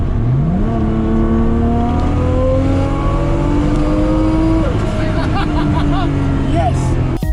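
RB26-swapped 1972 Datsun 240z making 645 wheel horsepower, engine revving up loud and close, then a shift into second where the pitch drops and climbs again, with speech beneath the roar.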